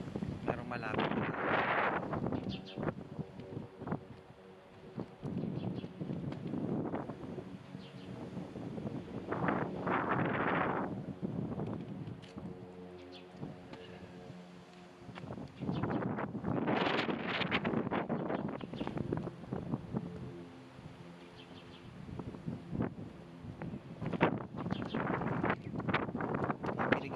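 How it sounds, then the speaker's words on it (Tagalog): Strong gusts of wind buffet the microphone outdoors on Staten Island, surging and easing in repeated waves of roaring noise, with people talking faintly underneath. "Mahangin dito."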